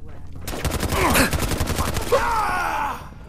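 Rapid bursts of AK-47 style rifle fire from the game Fallout crack in quick succession, close and loud, with groaning vocal sounds mixed in, like a video game firefight.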